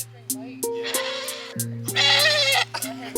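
Goats bleat several times in short, wavering calls at a farm campsite, close and fairly loud, with a voice speaking over them.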